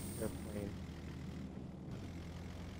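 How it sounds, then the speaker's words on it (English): A propeller airplane in the video game PUBG drones as a distant, steady engine hum over low rumbling background noise, with a brief faint tone near the start and voices talking. "Airplane."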